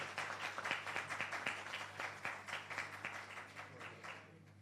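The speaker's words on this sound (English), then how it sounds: "So give them another round of applause." An audience at a formal launch and off-boarding ceremony applauds, with dense, fairly distant clapping that carries on steadily for several seconds, then fades out at the end.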